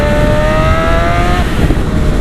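Sport motorcycle engine, a ZX6R or CBR600, revving steadily up and down in a loud, close rising whine on a group ride, with a continuous rough road roar underneath.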